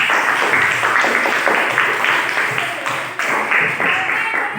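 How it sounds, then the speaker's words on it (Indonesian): A classroom full of students clapping together, steady and lively applause lasting several seconds, fairly loud and close. "Tepuk tangan dulu untuk kelompok"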